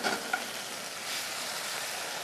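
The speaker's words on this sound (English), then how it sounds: "listen to that good sizzle" Food sizzles in a frying pan with a steady, moderately quiet crackle and a couple of small pops early on.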